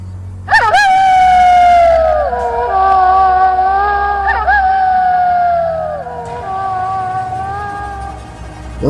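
Dogs howl loudly and close, with long rising and falling wails that overlap and waver, one howl starting and a second voice joining in before the sound trails off.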